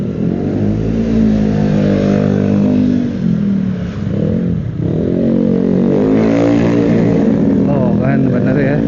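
Cars speed past along a residential street, loud engine roar swelling and receding continuously up close with revving passes, steady traffic noise throughout.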